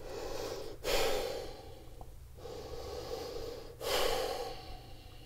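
Two long audible exhales during a yoga vinyasa flow as the body folds forward, each a breathy rush of air lasting about a second, close and clear with quiet gaps between.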